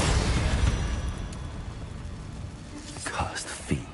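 Spell explosions booming in the video game Hogwarts Legacy, a heavy rumbling blast at the start fading out, followed by a few sharper pops and bursts near the end, with a voice speaking over them.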